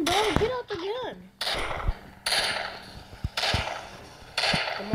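Video game gunshots: sharp, loud cracks repeating roughly once a second with a mechanical ring, a few shots heard alone in a row.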